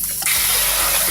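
Cold tap water gushes and sprays over freshly foraged dandelion greens, starting abruptly and then running as a loud, steady rush close by.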